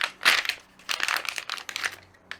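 A cutter slicing open a package of replacement window belt molding seals for a 2006-2011 Honda Civic sedan gives close, crinkly plastic rustling and tearing in several short bursts with brief pauses between them.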